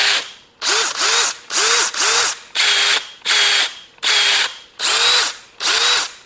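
A DeWalt 20V XR cordless drill fires in about nine short, even trigger bursts with brief silences between them. The motor whirs loud and close, and no voices are heard.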